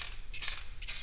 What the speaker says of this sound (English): watch the texture of the canvas disappear and fill in with spray paint